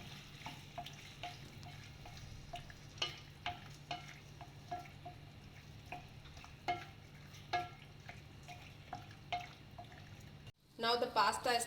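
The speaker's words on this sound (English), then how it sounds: "adding the cooked pasta to this and mixing it well" Cooked penne pasta stirred into red sauce with pepper powder and oregano in a pan, giving soft wet squelches and spoon scrapes in an irregular rhythm over a low steady hum, with a louder sizzling burst near the end.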